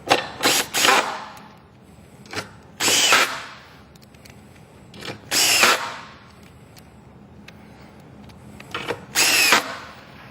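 A power drill drives Torx screws into the outside corners of a siding panel, with about four short whirring bursts separated by quiet pauses, close and fairly loud.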